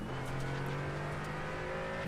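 A race car engine from the iRacing simulator drones steadily and fairly loud for two seconds, a sustained buzzing tone with slight pitch drift and no talk over it.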